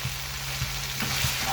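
Egg fried rice with peas and peppers sizzling and being stirred in a pan, a soft continuous frying hiss with a few light scraping stirs, close and fairly quiet.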